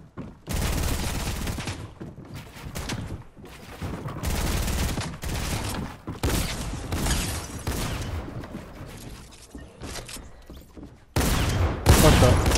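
Gunfire in Fortnite: repeated loud bursts of shots in clusters, some rapid like automatic fire, separated by brief lulls, with players talking over the shooting.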